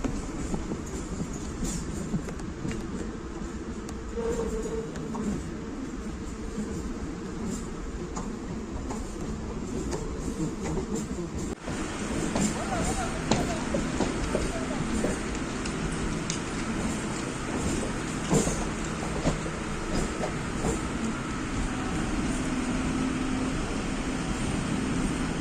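Suburban electric train on the Chengalpattu–Gummidipundi line in Chennai running steadily at close range, a continuous loud rumble of wheels on rails with rattling carriages and occasional squeals, without speech.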